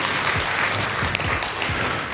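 Dense crowd applause fills a GAMA Grappling event hall, a steady roar of many hands clapping together, loud and close, with no talk over it.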